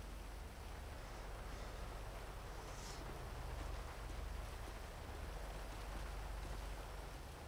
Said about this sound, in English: it's fucking raining again